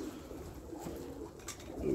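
Domestic pigeons in a loft coo softly, giving low murmuring calls close by against a faint background hum.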